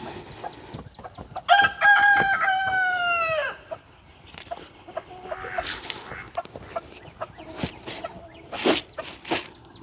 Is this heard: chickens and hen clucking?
yes